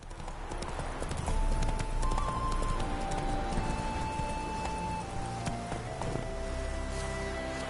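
Roach, a horse in The Witcher 3 Wild Hunt, trots along a woodland path with steady, close clip-clop hoofbeats throughout, carrying a few faint whinny-like tones over a continuous ambient game backdrop.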